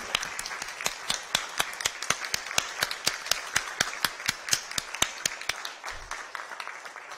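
A small group at a city council meeting applauds a retiring city employee, a sparse, fairly rhythmic run of distinct claps with individual hands clearly audible, modest in volume and carrying on steadily.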